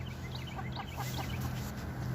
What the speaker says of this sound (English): You're supposed to crow, cock-a-doodle-doo, not balk like a chicken.